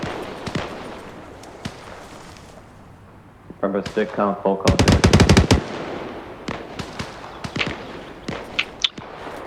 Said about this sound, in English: Those are gunshots.